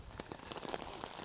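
Rain falls steadily outdoors during a rainstorm, a dense patter of drops striking an umbrella and nearby surfaces, close and fairly soft, with no voices.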